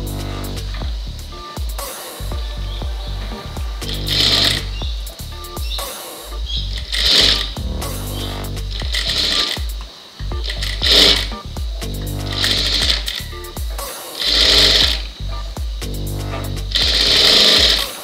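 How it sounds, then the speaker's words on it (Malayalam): An electric sewing machine stitches a blouse sleeve in repeated bursts of rapid, loud mechanical whirring, each run lasting a second or two with short pauses between as the fabric is repositioned. "ഇത് നമുക്ക് രണ്ട് സ്റ്റിച്ച് വേണം ചെയ്യാൻ, തിരിച്ചിട്ട് ഒന്നുകൂടെ അടിക്കണം."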